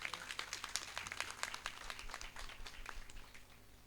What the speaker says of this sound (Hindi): जोरदार तालियां सबसे पहले तो।